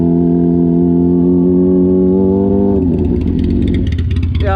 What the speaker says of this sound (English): You were doing a burnout and doing a wheelie that time.